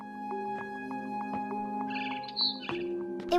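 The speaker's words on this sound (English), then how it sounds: "Then I heard chirping outside my window." Barn swallow in the game What Remains of Edith Finch chirping just outside a window: short bright tweets bursting out over a steady low hum of background tones, fairly close and clear.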